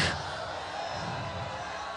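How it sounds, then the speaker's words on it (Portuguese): A large youth church congregation cheers and shouts in worship, a dense roaring wall of crowd noise filling a hall, heard moderately far and sustained throughout without distinct individual voices. "esse é o barulho da tua igreja te adorando, Jesus"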